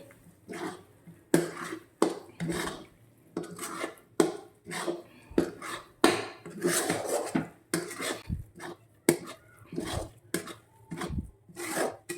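A spoon scrapes and stirs a toor dal paratha filling in a pan, producing steady, rhythmic scraping strokes that repeat close up with no talking.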